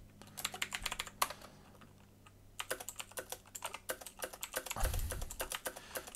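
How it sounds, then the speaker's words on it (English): Numbers typed on a computer keyboard in quick bursts of crisp, close key clicks, with a pause in the middle and a heavier thump near the five-second mark. "So if I type in even a few more, now some bad stuff can start to happen."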